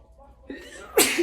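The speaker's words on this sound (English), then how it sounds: "I had a little sneeze." A single short sneeze bursts out near the end after a brief sharp intake of breath, close and fairly loud.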